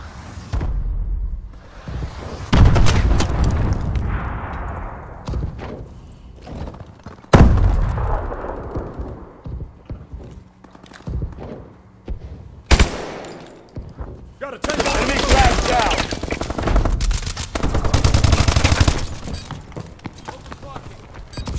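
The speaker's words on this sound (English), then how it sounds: "Friendly missile strikes incoming." Missile strikes explode in a video game: several heavy, booming blasts arrive in separate bursts, mixed with rattling gunfire and loud crackling debris, with a game announcer's voice heard between them.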